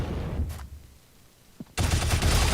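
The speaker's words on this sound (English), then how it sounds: "Or shoot him in the head. That works too." Gunfire at a soldier in Shadow Complex: a quiet stretch with a faint click, then a sudden loud, sustained burst of shots that carries through to the end.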